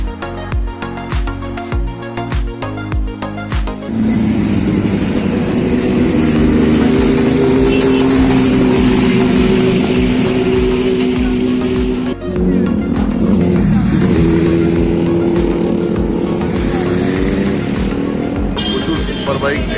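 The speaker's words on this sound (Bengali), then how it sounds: "সুপার বাইক এখান থেকে যাচ্ছে" A superbike roars past a roadside rider awareness campaign on a highway in Bengal, its loud engine revving steadily for most of the stretch, with a brief dip before surging again, close and dominant over other traffic.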